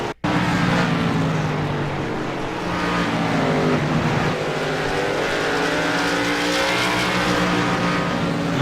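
A race car spinning out during a televised auto race, with loud sustained engine roar, rising and falling revs and squealing tires skidding across the track, close and continuous with no talk over it.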